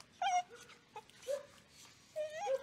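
Dog at an animal shelter gives several short, high whimpers and yips, close and fairly quiet, in brief bursts separated by pauses.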